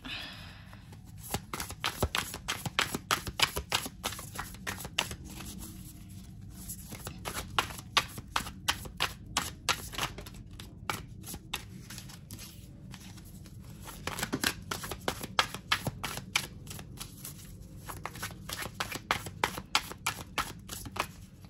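Cards are shuffled steadily and at length, a rapid, continuous patter of crisp flicks and snaps up close, with a faint low hum underneath.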